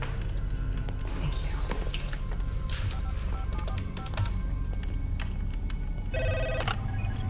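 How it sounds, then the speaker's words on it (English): A telephone bell rings repeatedly in a film scene, its bright trilling bursts mixed into a dense bed of background sound and music, growing most distinct toward the end. "Dr. Rhodes, the phone hasn't stopped ringing."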